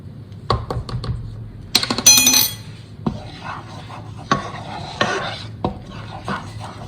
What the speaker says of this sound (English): To my melted butter, I'm going to add 6 tablespoons of flour